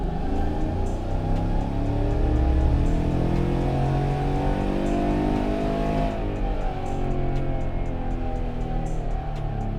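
A GM L83 V8 truck engine fitted with a BTR Stage 2 cam makes a dyno pull in second gear. It is loud and close, with the pitch climbing steadily through a sustained rev before it eases off near the end.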